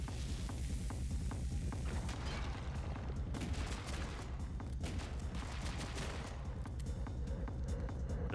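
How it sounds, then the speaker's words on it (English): Explosions and booming blasts from bombs in a frantic video game firefight, dense and continuous, with sharp crackling impacts and gunfire layered on a low rumbling bed throughout. "Okay, I guess these bombs last a while."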